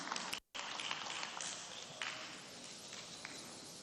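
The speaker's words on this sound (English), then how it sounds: "Another round of applause for him." Steady, dense audience applause at a press conference and stakeholder engagement, filling the room at an even level for nearly four seconds apart from a brief dropout near the start.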